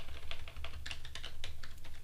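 Rapid, irregular keystrokes on a computer keyboard while entering a command in a Linux shell terminal, close and crisp over a steady low hum, with no talking.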